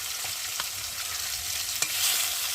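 Small chopped pieces of fish frying in hot oil, a continuous close hissing sizzle with occasional light ticks of stirring, no one talking.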